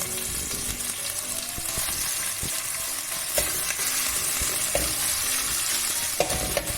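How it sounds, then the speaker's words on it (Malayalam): Steady sizzling of garlic and ginger frying in hot coconut oil, with occasional scraping and stirring clicks from a spatula throughout. "ഇതിന്റെ പച്ച മണമൊന്ന് പോട്ടെ, അത് വരക്കും ഒന്ന് ഞാൻ വഴറ്റി കൊടുക്കണം"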